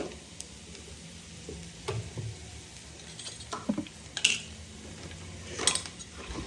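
Onions fry golden brown in a pan with a gentle sizzle, punctuated by occasional clinks and scrapes of a utensil against metal.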